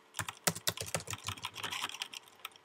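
Someone types an email signature on a computer keyboard, producing a quick, irregular run of close, crisp key clicks, with a few heavier taps mixed in.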